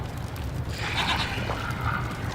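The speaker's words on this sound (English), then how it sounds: "No, there's a mountain goat." A mountain goat bleats in the video game Wasteland 3, one wavering bleat rising out of a dense, steady rumble of game ambience and noise.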